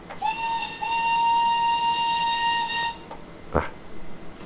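Steam whistle of an LB&SCR H Class 4-4-2 locomotive in Train Simulator Classic, a shrill sustained blast of about three seconds with a brief break near the start, followed by a short clank.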